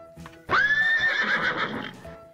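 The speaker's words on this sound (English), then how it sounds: "It's a brown and a white horse." A horse toy gives one loud, clear neigh lasting over a second, rising then wavering at high pitch, close and alone, with faint hoof clip-clop around it.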